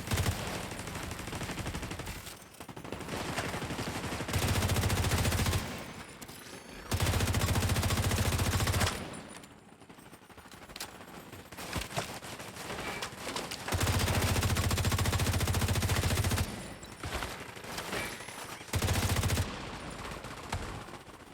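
Turret and gunfire in a video game, likely a sci-fi shooter with a grenadier enemy: repeated bursts of automatic fire and blasts rise and fall in loud bursts across the whole stretch, with no talking.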